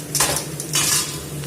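Washed cabbage tipped into a pan of golden sautéed onions in oil, heard as a close burst of sizzling and rustling with a clatter against the pan, then a steady hiss.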